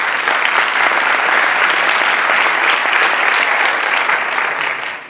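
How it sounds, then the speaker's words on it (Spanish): A conference audience at a healthcare innovation technical day gives sustained, dense applause, loud and even throughout before tapering slightly at the close. "Yo quiero pues, un aplauso para ellos."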